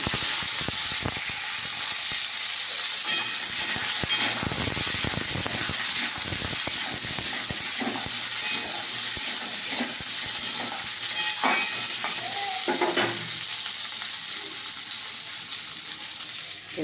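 Potato and tomato pieces drop into hot oil with bay leaf, giving a steady close sizzle with scattered stirring scrapes and clinks throughout.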